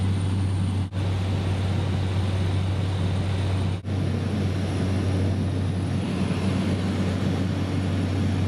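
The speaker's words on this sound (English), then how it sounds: "I got into a small 8-seater plane which had two pilots." A small eight-seat twin-pilot plane's aircraft engine drones steadily and loud, a constant low hum with a broad roar layered above, unbroken apart from two brief dropouts.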